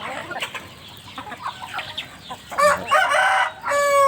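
Young hens cluck and chatter close by over a steady outdoor hiss after rain in Thailand, then a rooster crows loudly near the end.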